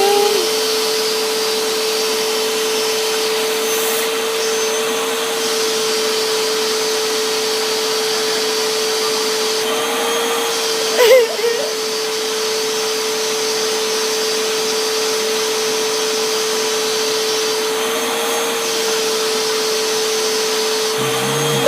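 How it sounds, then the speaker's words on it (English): A vacuum cleaner runs steadily and loudly at close range as a cat plays around it, giving a constant whine that holds without a break. A brief bump comes partway through. "This is a vacuum cleaner."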